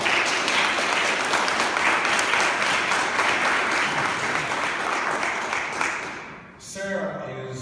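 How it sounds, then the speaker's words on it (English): Audience at a Black Caucus community meeting breaks into sustained, dense applause that holds steady for several seconds before tapering off at the end, with a few scattered claps trailing. "Give a round of applause."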